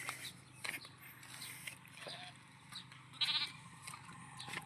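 Goats bleating nearby at a herder's camp, several short cries scattered across the moment over faint rustling, one louder bleat standing out near the middle.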